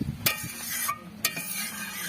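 A spoon stirring paneer into boiling cabbage and egg curry in a pot, two sharp metallic scrapes against the pan over a low bubbling simmer, close and brief, no voices.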